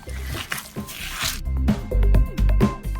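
Chapli kebab mince mixture is mixed by hand, with close, repeated wet squelching and squishing pulses in an uneven rhythm.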